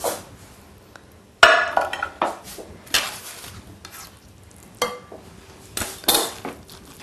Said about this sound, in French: Là, nous mélangeons.